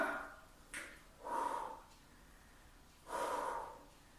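Heavy breathing during a HIIT workout, with sharp nasal exhales and puffs that come in about three bursts separated by short pauses, close and fairly quiet.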